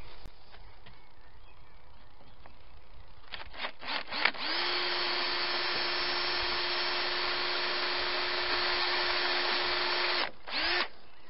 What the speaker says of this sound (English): That'll be one drill hole.